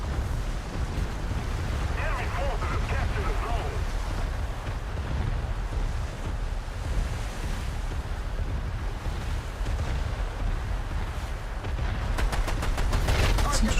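Naval gunfire during a War Thunder naval battle, with steady rumbling engine and sea noise beneath scattered cannon reports and a sharp burst of rapid shots near the end.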